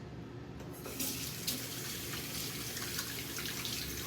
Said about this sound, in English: Just washed my hands